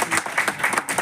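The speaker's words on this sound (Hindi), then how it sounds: "एक बार तालियां आप बजा देंगे यहाँ पे सब लोग" Audience clapping for a young archer at a motivational event, a short dense burst of applause with a few sharper hand claps standing out.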